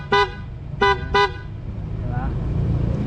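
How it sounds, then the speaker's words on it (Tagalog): Three loud, bright blasts from a PIAA horn fitted to a Honda Click V2/V3 scooter, one short toot and then two quick ones, over an idling engine and traffic rumble. "sabay busina na loud horn"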